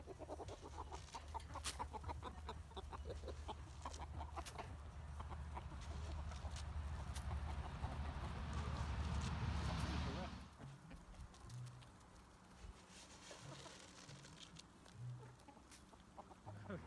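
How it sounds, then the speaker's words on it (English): Chickens cluck on a farm just outside Timmins, soft scattered clucks under dense rustling and handling noise that cuts off abruptly, leaving sparse, quieter clucking afterward. "I think we're gonna feed the chickens as well."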